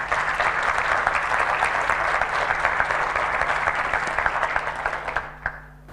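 Audience applause at a university lecture in Chile, a dense, steady wash of many hands clapping that holds for several seconds before tapering off near the end, with no talk over it.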